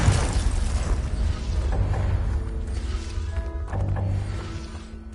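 Confringo explosive spell blast in the Hogwarts Legacy video game: a heavy booming burst opens, then rumbling debris and a low roar continue with tonal game effects ringing over the tail at moderate loudness.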